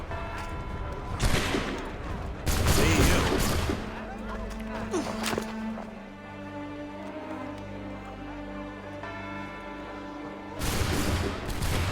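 A musket volley crashes out in the Assassin's Creed 3 video game, loud bursts of gunfire followed by a ringing lull with music underneath, then another blast near the end, with a brief voice amid the action.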